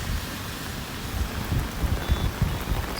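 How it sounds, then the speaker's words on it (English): Steady heavy rain from Cyclone Tauktae pours down over Masunda Lake in Thane, a dense continuous hiss with low rumbling patter throughout, no voices. "having a great view around the talao as rains start to pour in"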